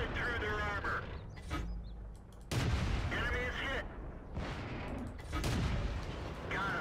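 Tank cannon fire in World of Tanks sounds as several loud booming shots spaced a second or two apart over rumbling game noise, with someone talking between them.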